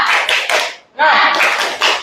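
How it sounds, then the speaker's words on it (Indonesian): A group claps out a rhythmic 'tepuk semangat' chant in a classroom, bursts of quick claps running in two phrases split by a short pause, loud and close, with voices chanting along. "Tepuk semangat"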